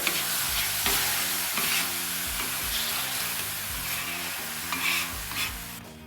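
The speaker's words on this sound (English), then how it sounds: "This is going to deglaze, and really all you're doing is getting the food particles up" On a Pit Boss griddle, liquid sizzles loudly while a metal scraper rasps repeatedly across the hot flat-top to lift food particles, a rhythmic series of scrapes under steady frying hiss, with no voices.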